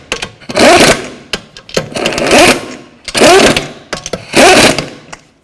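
A power tool snugs up the wheel lug nuts on a Toyota Camry in a garage: four loud, close buzzing bursts in a steady on-off rhythm, one burst for each nut.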